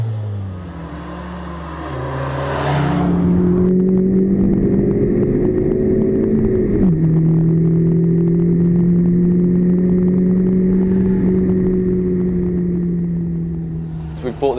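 A Honda Civic Type R engine revs hard toward its 7,000 RPM red line on the Slovakia Ring track, a loud, sustained rising engine note heard close up that holds steady for most of the clip.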